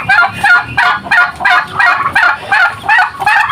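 Breeder chickens feed nearby, their loud clucking and gobbling calls coming in quick repeated bursts about twice a second, with no talk over them.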